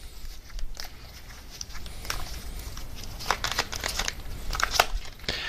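Tarot card slid and shuffled from a deck, a run of soft papery crinkles and light brushing taps close by, uneven and quiet throughout with no voice.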